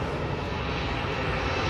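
An airplane flies low over East Coast Park in Singapore, a steady, loud, broadband engine roar that holds evenly from start to finish, with no voices.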